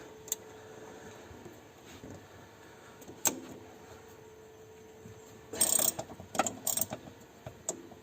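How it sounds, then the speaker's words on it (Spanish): A small ratchet on a 16 mm combination wrench loosens a nut on a BMW 330ci shock absorber, giving a few sharp metallic clicks and then a quick cluster of ratcheting clatter close by in a quiet garage. "vamos a poner nuestra carraca chica y una 16 que tenemos mixta estas de carraca, la ponemos para aflojar"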